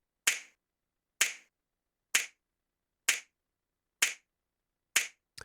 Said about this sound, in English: Notice how the clap has a completely different vibe now.